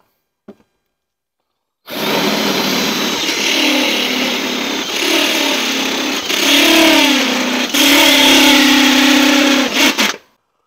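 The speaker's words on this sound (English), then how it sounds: "switch out to our step bit and uh, drill those holes a little bit larger" A power drill with a step bit runs steadily for about eight seconds, enlarging holes for a snorkel install on a fourth-generation Toyota 4Runner V8; its loud, gritty whine shifts in pitch as the bit bites into material, then cuts off.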